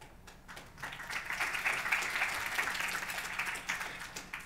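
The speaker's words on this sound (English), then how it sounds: "Round of applause for Chris Gore" Applause from a workshop audience at a sustainability panel, a steady wash of clapping that swells after a quiet start and holds at moderate loudness without speech.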